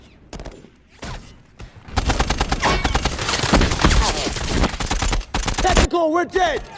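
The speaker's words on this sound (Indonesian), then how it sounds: "Musuh ternyata mempunyai senjata teknis dan menembak beberapa pasukan 17 Februari." Dense, loud gunfire from a war film set in a battle in Benghazi, a sustained chaotic fusillade of overlapping shots lasting several seconds, with shouted voices mixed into the din.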